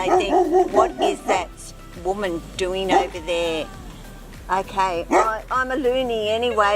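Small dogs yip and bark intermittently in the background while someone talks continuously over them outdoors near a snake.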